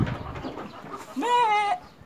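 White goats on a farm in Korea, with a quiet mix of background noise and then one clear, wavering bleat close by near the end.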